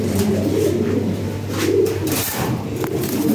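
Lahori Sirazi pigeons coo steadily and close by, a soft, continuous rolling call that carries through the whole stretch with no talking.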